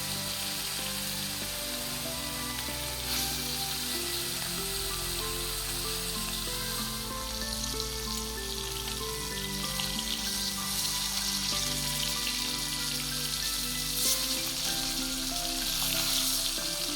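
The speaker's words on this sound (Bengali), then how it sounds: "কড়াইয়ে তেল গরম হয়ে গেলে মাছগুলি ছেড়ে দিয়ে 2 মিনিটের মতো ভেজে নামিয়ে দেব।" Hilsa fish pieces fry in hot oil in a wok, giving a steady, loud, close sizzle that runs unbroken throughout, with no voices.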